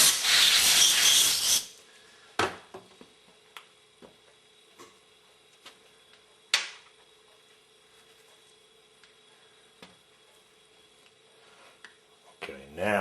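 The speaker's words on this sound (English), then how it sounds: "Dry it off with the air." A loud blast of compressed air hisses for about a second and a half while drying a Meyer snowplow pump's crossover relief valve part, followed by quiet clicks and taps of handling and a brief second puff near the end.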